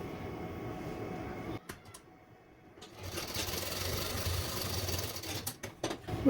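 A sewing machine stitches a blouse strip with a steady mechanical whir. It runs continuously, pauses briefly near the middle, then resumes at a similar level.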